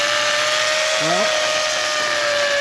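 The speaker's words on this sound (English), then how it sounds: "that is drilling through that wall" A loud, steady high-pitched whine of a diamond core drill grinding continuously through a concrete wall with rebar, with a brief voice or pitch shift rising near the middle.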